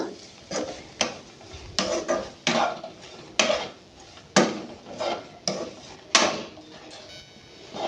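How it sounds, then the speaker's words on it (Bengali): Vegetables with butter and salt are stirred in a pot, making repeated scraping clanks and knocks of a utensil against metal in an irregular rhythm, close and fairly loud. "এবার আমি এর মধ্যে পরিমাণ মতো নুনটা দিয়ে দিচ্ছি এবার এটাকে আমি হালকা নেড়ে নেব"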